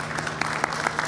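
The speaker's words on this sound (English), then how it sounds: "Let's put our hands together" A large crowd at a cultural festival claps in a brief, continuous burst of applause, a few individual claps standing out over a steady background hum.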